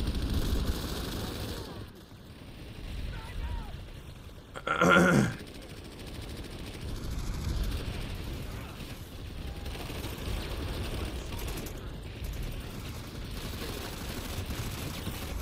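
A brief, sharp burst of gunfire in Planetside 2 cuts through a steady background rumble of battle, with a voice talking faintly over the noise.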